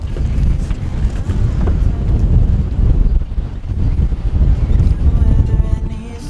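Strong southerly wind gusting out of a fjord roars and buffets the microphone aboard a sailboat moored at a concrete pier, in rising and falling waves, loud and close, with no clear speech.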